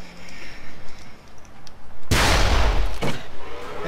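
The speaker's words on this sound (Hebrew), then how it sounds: "קלטתי פיצוץ." A loud, sudden explosion booms in the Ace of Spades shooter game, a dense blast lasting about a second with a rumbling tail and a second smaller burst after, over steady game background noise.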